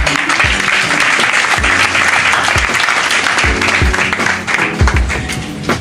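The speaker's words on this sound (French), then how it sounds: "Clap hands for Papa Datsa." Loud, dense applause from a business kickoff event audience fills the whole stretch, steady and close with a few sharper claps near the end.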